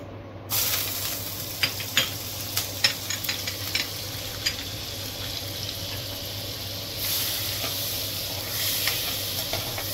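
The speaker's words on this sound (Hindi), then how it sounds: "आतां हांव वेजिटेबल साटे करता." Vegetables sautéing in a little olive oil and butter produce a steady close sizzle, punctuated by a series of sharp spoon scrapes and taps against the pan, with the hiss swelling louder toward the end and no one speaking.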